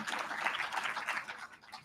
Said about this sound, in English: So another round of applause for Marianne